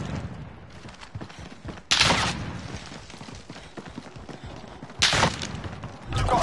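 Gunfire in a shooter game: two loud, close bursts about three seconds apart, each trailing off into scattered thumps and clatter over a busy background.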